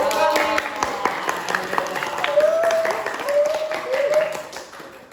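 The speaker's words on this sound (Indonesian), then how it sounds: "Berilah tepuk tangan yang meriah untuk kelompok kami." Classroom audience clapping for a group presentation, a short burst of scattered hand claps mixed with murmuring voices, with a faint whistle-like tone weaving through.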